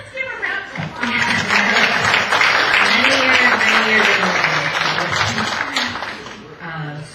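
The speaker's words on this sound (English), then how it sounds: "let's give a round of applause." Attendees at a regular board meeting give a round of applause, a rising wash of clapping with voices murmuring and talking underneath before it tapers off.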